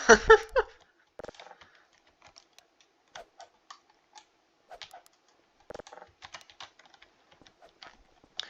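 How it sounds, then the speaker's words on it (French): A computer keyboard clacks in scattered short bursts of keystrokes, quiet and close, with sparse pauses between taps after a brief voice at the start. "Le clavier était coincé."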